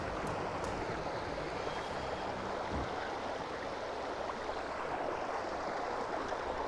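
Water running into a camping filter bag outdoors, a steady rushing, gurgling flow that stays even and continuous throughout, with no talking.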